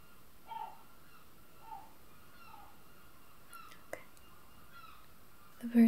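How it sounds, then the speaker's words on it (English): Crows caw outdoors in a handful of separate, fairly distant calls spread across a quiet indoor scene, faint under soft room hush, with a brief knock and rustle near the end. "Birds are going really wild right now."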